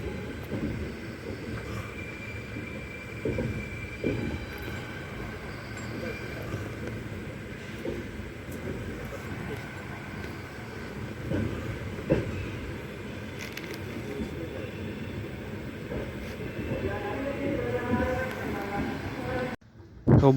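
A passenger train pulls out of a station at Bhadrak and crawls slowly across the points onto another track, giving a steady low rolling rumble with faint voices in the background through most of the stretch.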